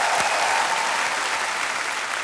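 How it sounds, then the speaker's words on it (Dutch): Studio audience applause on the Dutch TV show Ik hou van Holland, a dense, steady wash of many hands clapping at full loudness throughout, with no talking over it. "Dames en heren, groot applaus, Jung Rijman."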